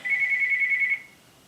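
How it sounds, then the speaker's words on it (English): A house phone gives one steady electronic ring of about one second, close and clear in a quiet room, then stops. "That's my house phone."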